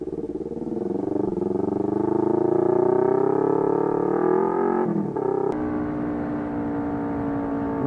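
A Yamaha R25 motorcycle engine drones steadily while riding, rising in pitch as it accelerates, then drops to a lower idle hum after a brief shift.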